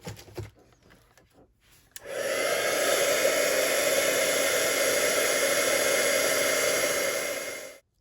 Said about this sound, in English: we'll heat set with my heat tool